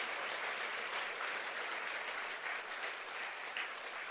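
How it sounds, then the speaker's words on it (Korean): A church congregation applauding during a sermon, steady sustained clapping that fills the room at an even level throughout, with no talk over it. "기립박수를 해야 되는 거예요."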